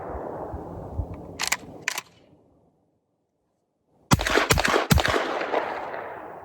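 A Girsan shotgun fires about six loud, sharp shots: two close together, a pause of silence, then a quick cluster of four, with room echo and handling noise between them.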